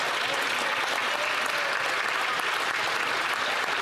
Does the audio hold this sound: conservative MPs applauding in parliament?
yes